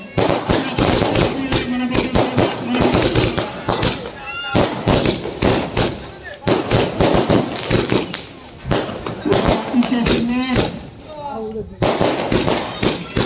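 Rapid crackling bursts of firecrackers going off continuously at a birthday celebration, loud and close, with voices talking underneath throughout.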